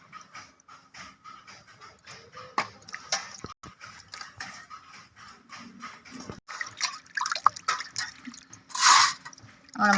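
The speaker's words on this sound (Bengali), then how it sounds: "মাছগুলো ধুয়ে নিচ্ছি।" Water dripping and splashing as cut river fish are washed by hand for cooking, with irregular clinks, trickles and drops at close range and a louder splash near the end.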